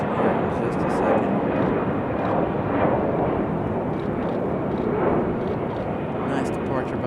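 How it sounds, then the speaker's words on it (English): American Airlines Airbus A319 departing Raleigh-Durham airport, a broad sustained jet roar with slow pulsing swells, steady and moderately loud, with a voice faintly present. "Nice departure for our American A319"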